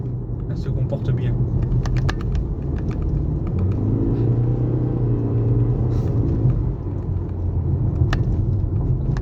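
A car rolls along a rough, uneven road with a continuous low rumble and road noise from inside the cabin, plus scattered knocks and rattles, while people talk over it.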